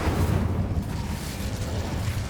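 Incendio fire spell cast in the Hogwarts Legacy video game, a sustained roaring, rumbling burst of flame that stays loud and steady for about two seconds.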